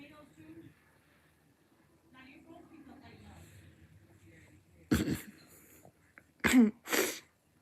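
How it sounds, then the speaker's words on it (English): A few sharp, explosive coughs near the end, close and loud, after a stretch of quiet, low murmuring. "I'm coughing"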